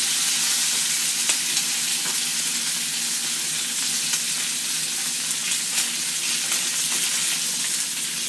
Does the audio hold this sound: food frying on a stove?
yes